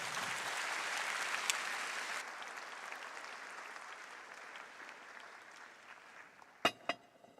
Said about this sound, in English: let's give them a warm round of applause again